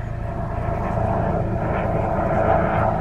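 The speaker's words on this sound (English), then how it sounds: "just as a helicopter flies over" A helicopter flies over an open field, its steady engine and rotor drone rumbling continuously at moderate distance, swelling slightly as it passes overhead.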